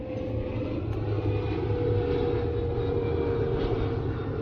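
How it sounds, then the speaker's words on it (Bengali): A steady, low rumbling drone of an aircraft engine, continuous and fairly loud throughout, like a plane passing at low altitude. "প্লেন যাচ্ছে কত নিচে দিয়ে"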